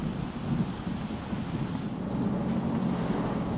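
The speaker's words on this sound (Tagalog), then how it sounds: "Ang malakas na hangin dala ng bagyong Ofe sa Tumawini" Strong typhoon wind from Typhoon Ofel roars continuously over the microphone in Tumauini, Isabela, a loud, unbroken rumbling gust with no voices.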